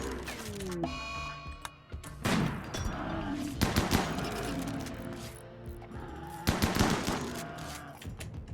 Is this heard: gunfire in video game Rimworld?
yes